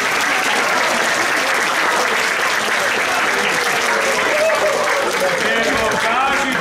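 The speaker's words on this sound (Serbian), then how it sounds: "A vi nagradite jednim aplauzom." An audience claps steadily and loudly at a children's New Year gift-giving event. The applause is dense and sustained, with no break and no audible talk over it.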